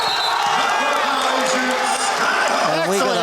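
Excited basketball crowd in a college gym keeps up steady cheering and whooping after a blocked shot, a dense roar that runs the whole time beneath an announcer's continuous commentary.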